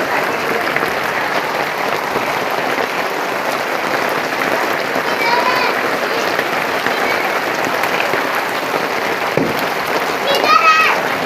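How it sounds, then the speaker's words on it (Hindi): Thick hail pours down outdoors in a dense, steady roar of pattering and thudding impacts that runs the whole time, with faint children's voices and chirps breaking through near the end. "ठा ठा डम डम हो रही, इतनी मोटी बर्फ़।"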